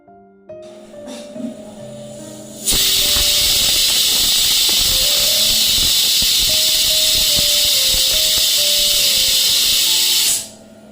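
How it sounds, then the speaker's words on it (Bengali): A pressure cooker whistle lets out steam in a loud, continuous hiss that lasts about eight seconds and then stops abruptly, after quieter kitchen sounds. "কুকারে ওদিকে সিটি পড়ে গেল"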